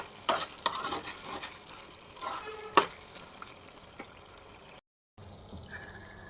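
Quiet sizzle of meat frying with melted onion and garlic, with intermittent scraping and clanks of a spatula stirring the pan, a brief silence near the end.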